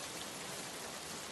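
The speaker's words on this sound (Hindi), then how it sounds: "चारों ओर गहरी निश्शब्दता थी, सिर्फ बारिश की बूंदों की आवाज" Rain at night falls as a steady, even hiss of countless drops, faint and continuous with no voices or other sounds.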